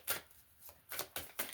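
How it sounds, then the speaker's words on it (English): Several quick riffling bursts of tarot cards being shuffled, close and fairly quiet, in uneven clusters. "shuffle them real quick."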